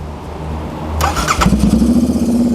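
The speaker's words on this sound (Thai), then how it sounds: "นี่ฟังเสียงแบบ ท่อยิงสดก็จะออกมาประมาณอย่างนี้ครับ" A Royal Enfield GT650 motorcycle engine fires up partway through, then settles into a throaty, pulsing exhaust rumble through a loud straight-through pipe that continues to the end.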